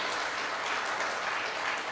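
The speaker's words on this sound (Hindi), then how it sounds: "एक जोरदार तालियां आप सभी के लिए" An audience applauds at a company presentation, a dense continuous wash of clapping that stays even and fairly loud across the whole stretch with no voices over it.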